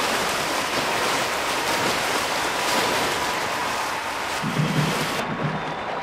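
Swimmers pull hard through the water in a London 2012 Olympic swimming race video game, a continuous dense wash of splashing and churning, loud and steady throughout with no voices.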